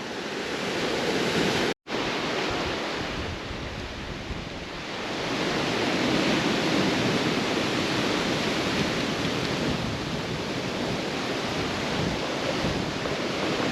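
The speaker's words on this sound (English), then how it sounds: "the wind's getting heavy, the waves are getting stronger" Strong wind and heavy surf roar along the Penang Island coast as a storm builds. The broadband rush is continuous and loud, with gusts buffeting the microphone and one brief dropout near the start.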